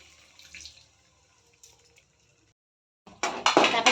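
Water from a tap runs into a cooking pot while Maggi noodles are prepared with masala, a brief faint splash early on, then a louder, closer gush of pouring in the last second after a short silence.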